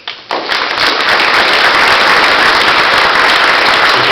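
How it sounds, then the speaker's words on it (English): Audience applause for the third inductee of the Nova Scotia Country Music Hall of Fame, a dense, steady wash of many hands clapping that swells in after a brief quiet start and holds loud throughout. "let's give a round of applause for the 3rd inductee for the Nova Scotia Country"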